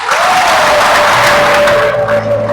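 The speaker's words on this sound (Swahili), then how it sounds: "Naomba tumpigie makofi." A church congregation applauds loudly and steadily after a new parish priest's installation at Tabora cathedral, dense clapping filling the whole moment with faint crowd murmur.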